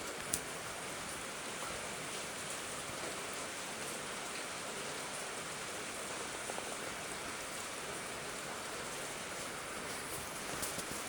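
Steady rain falls at midday, a dense even hiss of drops on surfaces with a few sharper individual splashes, continuous and fairly close throughout.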